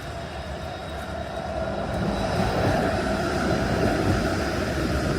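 A Toronto streetcar idles and moves at an intersection behind a left-turning vehicle on a snowy day at the Beaches, a broad low rumble that swells slightly louder partway through, steady and without speech.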